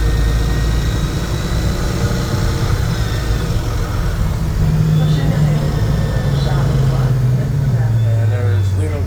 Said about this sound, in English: your engine's right here beside where we're sitting on the left.